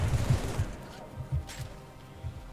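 Sniper rifle shots in Halo 3 on Legendary, fired at brutes aboard a ship: several heavy low booms spaced across the moment, punchy and close, with game ambience beneath.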